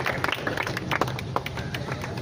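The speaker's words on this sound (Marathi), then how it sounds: "त्यांच्यासाठी जोरदार टाळ्या वाजवून आपण त्यांचे स्वागत करावं" A rally crowd at a political meeting in Phondshiras claps to welcome MP Dhairyasheel Mohite Patil, with scattered, steady hand claps spread across the whole stretch at moderate loudness.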